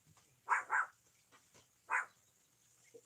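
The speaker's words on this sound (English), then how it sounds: "This is the second time he's barked at that statue" A dog barks three times at a statue of a cat holding a mouse: two quick barks close together, then a third after a pause, fairly near and clear against a quiet background.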